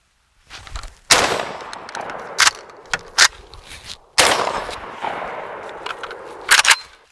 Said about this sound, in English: Seat your mag, rack it